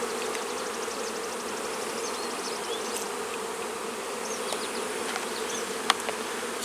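Honey bees buzz steadily in an open hive during a routine inspection, a dense, continuous drone with a few sharp clicks and knocks of frames or tools, no talking.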